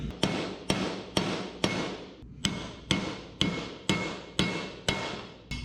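Hammer tapping wheel studs into a hub during a 1980 Squarebody 4x4 brake overhaul, about ten sharp metallic strikes at a steady, roughly half-second rhythm with a brief pause after the first few, close and ringing.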